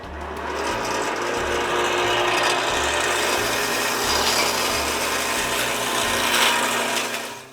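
A corn mill grinds corn for farm animals on a rural property, making a loud, steady mechanical grinding roar with a rhythmic low thumping underneath throughout, and no voices.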